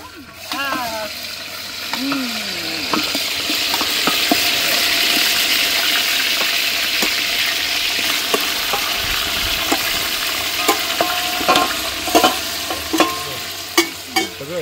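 Goat mutton dropped onto crisply browned onions in a pot over a village wood-fired clay stove, a steady hiss of frying with stirring ladle knocks, scraping and clinks, voices speaking briefly at the start.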